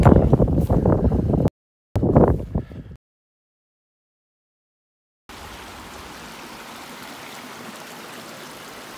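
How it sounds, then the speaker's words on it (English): A stream at a trail water source near Wise Shelter on the Appalachian Trail rushes in a steady, even wash of water noise after a brief stretch of other sounds and a silent gap. "Nice water source here near Wise Shelter."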